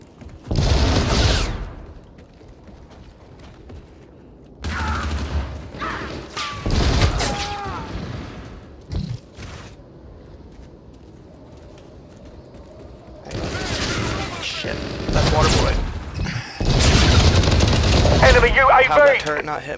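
Video game turret fire comes in several loud bursts of rapid shots, separated by quieter gaps in which a person talks.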